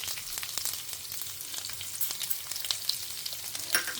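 Salted bitter gourd sautés in a pan with a soft, continuous sizzle and scattered small crackles, a few sharper clicks toward the end.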